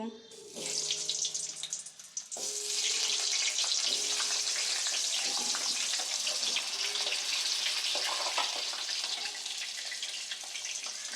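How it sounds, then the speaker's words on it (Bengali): Potatoes frying in hot oil for chicken biryani, a loud steady hissing sizzle that flares up suddenly after they drop in and stays close and continuous, with a few faint clinks. "এই তেলের মধ্যে আলুগুলো ভেজে নেব।"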